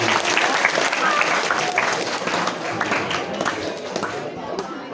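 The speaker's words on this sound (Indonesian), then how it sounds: "Tepuk tangan dulu buat Mbak Dini." Audience applause at a school Ramadan study session in a junior high school, a dense, steady clapping crowd filling the hall at close range that thins out slightly toward the end.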